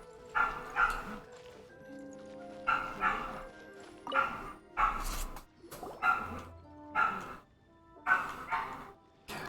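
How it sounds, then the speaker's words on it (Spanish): Dog barking repeatedly in the street, a steady series of yips and barks about once a second, fairly close and loud, with faint background noise between them. "Supongo que se estará escuchando el perro en la calle"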